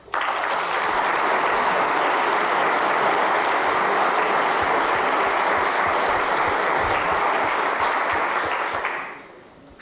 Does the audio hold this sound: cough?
no